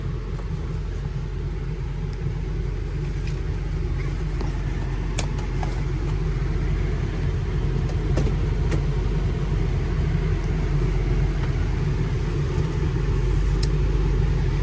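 A 2005 Ford F350 Powerstroke diesel pickup on the road gives a steady, continuous low engine rumble with road noise, heard from inside the cab, with no talking and only faint rattles and clicks on top.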